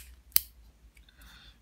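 A single sharp snip of scissors close by, cutting a cotton wick for a vape atomizer, followed by faint rustling in a quiet room.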